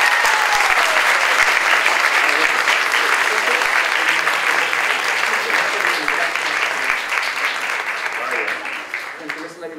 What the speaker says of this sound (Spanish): Que se escuche ese espontáneo aplauso para la gente.